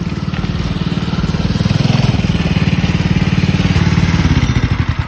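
A go-kart engine runs loud and close with a steady, rapid, throbbing putter that holds throughout on a cloudy day.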